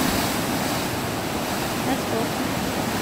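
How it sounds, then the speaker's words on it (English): Ocean waves surging against rocks and forcing water out of a blowhole at a cove in Hilo, Hawaii, a continuous loud rushing and hissing wash with wind noise, heard close by. "So that's a blowhole. The thing with water spouting out of it."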